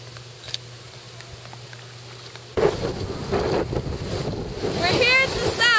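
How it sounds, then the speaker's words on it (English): Strong wind at the shore of a sound buffets the microphone in a loud, continuous roar that surges and gusts, starting abruptly after a quieter moment, with a voice faintly present beneath. "We're here at the sound and it's really windy."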